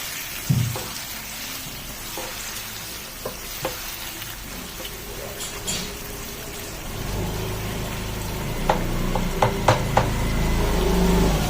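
Lemon chicken being stirred in a frying pan, a steady sizzle with scattered spatula scrapes and clicks that grow louder and busier toward the end, no voices.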